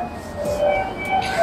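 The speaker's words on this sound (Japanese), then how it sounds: "そして地下鉄で五条に向かいます。 京都から、はい、烏丸線で五条に向かいます。" A Kyoto subway train on the Karasuma line rumbles steadily with a low running roar and faint high whines from the motors, heard from close by inside the station or car.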